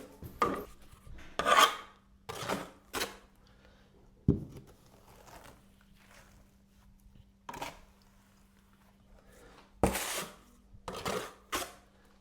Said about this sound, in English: Always keeping the trowel clean. No trowel all covered in plaster. Just clean the edges off